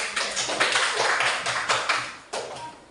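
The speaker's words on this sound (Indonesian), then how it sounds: "Kita tepuk tangan dulu untuk Nasya dan teman-teman." A group claps hands together for Nasya and friends during a classroom activity, a dense run of steady applause that swells and briefly dips near the end before resuming, with no talking over it.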